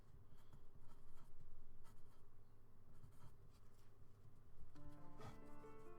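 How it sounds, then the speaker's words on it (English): A Sharpie marker squeaks and scratches across a surface in close, quiet strokes with brief pauses between them, under a low steady hum, with no talking. "I can write that down."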